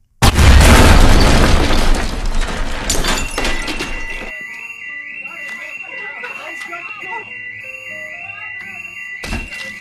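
A loud, sudden bomb blast in a nursing home opens with a deep rumbling roar that fades over several seconds, followed by ringing, shrill alarm tones and scattered tonal sounds.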